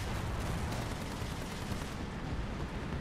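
Tank gunfire in the War Thunder video game, a dense, loud barrage of booming shots and rumbling blasts without pause, heard alone with no talk.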